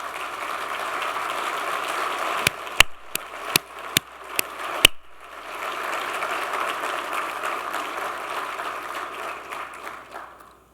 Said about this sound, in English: I'd really like it if you'd all stand and give the crowd a wave and give them a big hand.